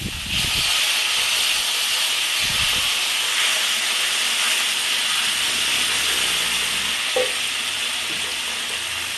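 Hot water poured into a pan of fried onions while cooking Bengali katla fish curry, raising a loud, steady steam hiss and sizzle that holds for several seconds, with no talking.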